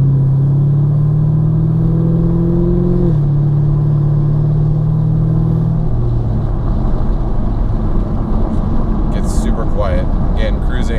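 A Chevrolet Camaro (2016–2019) with a Stainless Works exhaust accelerates, heard loud from inside the car as the engine note climbs in a rising drone, shifts, climbs again, then settles into a rough low rumble.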